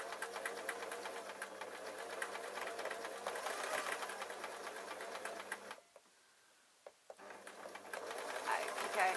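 A sewing machine runs in steady bursts while stitching fabric for a bootie slipper, whirring continuously for several seconds, stopping briefly, then starting again, with someone talking over it.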